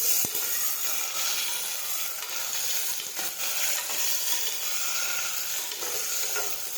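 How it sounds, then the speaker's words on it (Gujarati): Chopped cluster beans (guvar) sautéing in a pan with asafoetida, a steady loud sizzle and crackle with faint stirring scrapes, no talking. "સમારેલો ગુવાર નાખીશું. હવે આપણે સાતળી લઈશું."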